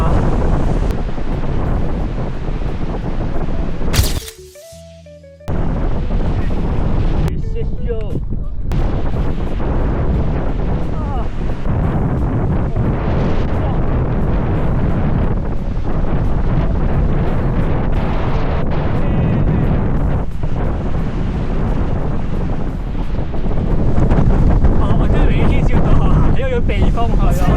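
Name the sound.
rushing river in strong wind, Hooker Valley New Zealand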